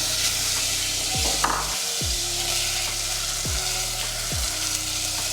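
Butter melts in a pan for a cheese sauce for bacon mac and cheese, giving a steady sizzle under a low hum with a few brief thuds.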